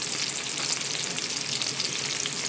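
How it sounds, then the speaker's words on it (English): Homemade meatballs shallow frying in oil give a dense, steady sizzle and crackle, close and continuous, with no voices. "When you're shallow frying as well, the oil tends to splatter"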